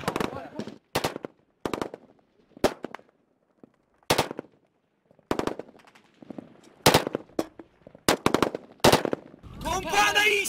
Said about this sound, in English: Smorge, if you need to fire, fire!